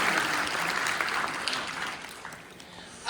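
An audience claps steadily and fairly loudly for several seconds at a student startup talk, the applause slowly thinning toward the end.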